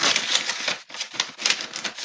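Paper letters are creased and folded to fit a number 10 envelope, a close, dense crinkling and rustling with short pauses between folds.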